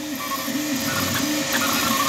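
Stepper motors on a Two Trees SK1 3D printer whir in a steady, close mechanical hum, with shifting tonal whines rising and falling as the motors move.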